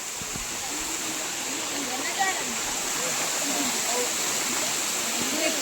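A waterfall roars in a steady, unbroken wash of rushing water, with faint voices drifting over it under a cloudy sky.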